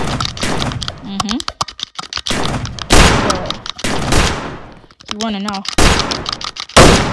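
Roblox shooting game gunfire, several sharp loud shots in scattered bursts mixed with keyboard clicks, with a player talking between and over the shots.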